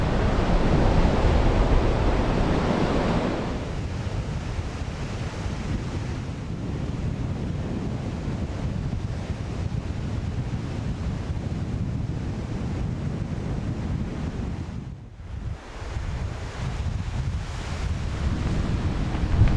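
Ocean waves break and wash onto a beach in Vietnam in a steady, broad roar, with wind buffeting the microphone throughout and no talking.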